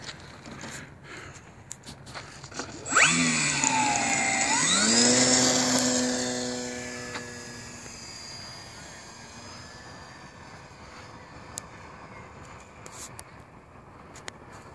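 A large-scale model Champ airplane with a pilot figure in the window revs up and takes off, its engine rising sharply into a loud, climbing whine with strong harmonics, then gradually fading and receding into the distance.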